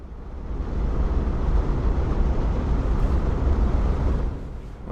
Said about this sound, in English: So here is the train going into the tunnel